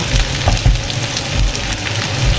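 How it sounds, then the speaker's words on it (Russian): Pieces of liver frying in a pan, a steady close sizzle and crackle with small pops throughout, no voices. "Все, жарим дальше."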